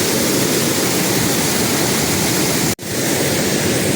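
A powerful waterfall, Cehennem Waterfall, roars loud and unbroken, heard from its top, a dense rushing wash of water, with one sudden brief dropout near the end.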